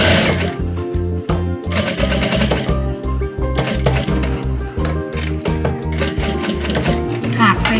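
Sewing machine stitching a bag along the seam line, running in fast rhythmic bursts of needle chatter with brief pauses, close and loud with music playing underneath.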